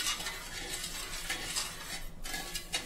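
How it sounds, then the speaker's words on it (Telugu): A spoon stirs sugar and water as it cooks down into a syrup in a pot on the stove. There is steady scraping and clinking with a soft bubbling hiss, close and continuous, and no talking. "తీగ పాకం వచ్చే వరకు కలపాలి"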